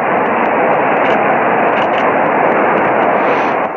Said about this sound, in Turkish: Kaplan desenli F-16 savaş uçağı Adana İncirlik üstünden tam teçhizatla havalandı